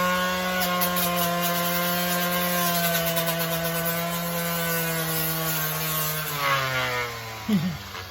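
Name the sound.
high-power sanding machine running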